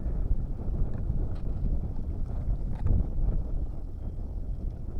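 Strong wind buffets the microphone outdoors while fishing for tilapia, a continuous loud low rumble with gusty swells and occasional thumps, and no clear talk.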